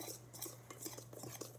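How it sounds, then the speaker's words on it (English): Brownie batter is whisked in a bowl, quiet rapid clinks and scrapes of the whisk against the sides under a low steady hum, no talk. "I'm just whisking"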